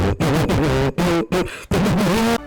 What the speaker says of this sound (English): An epic version of the Brinstar theme starts playing, but unfortunately, the Game Boy Advance sound chip is not a huge fan of epic music